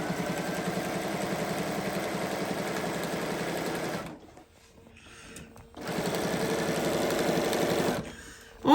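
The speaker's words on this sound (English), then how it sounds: "I'm just going to stitch it kind of slow all the way around." A sewing machine stitches slowly through a mermaid tail pattern, humming with a steady rhythmic chatter for several seconds, stopping briefly, then starting again before a short final burst.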